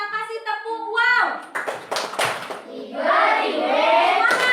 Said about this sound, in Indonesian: Kita kasih tepuk wow.